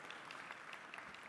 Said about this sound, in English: A special roar of applause, ladies and gentlemen